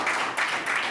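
Audience applause at a Hindi poetry recitation, a steady wash of many hands clapping continuously for about a second with no voices over it.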